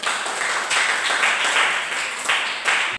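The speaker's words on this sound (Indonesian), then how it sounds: "tepuk tangan dulu untuk" A burst of applause from a classroom audience, steady clapping filling about three seconds before cutting off abruptly.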